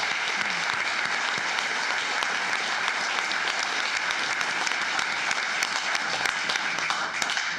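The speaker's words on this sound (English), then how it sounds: "Let's give all our employees a big round of applause for what they do." Sustained applause rolls through a commissioners court chamber in honour of county employees, a thick, unbroken wash of many hands clapping for the whole stretch.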